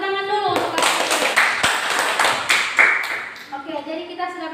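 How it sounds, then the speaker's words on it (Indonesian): Students in a classroom applaud with a few seconds of brisk, close clapping, while a voice talks over it. "tepuk tangan dulu untuk kalian"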